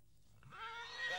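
An Akhal-Teke stallion gives a rising, shrill neigh that swells after a quiet start and holds to the end, fairly close and moderately loud.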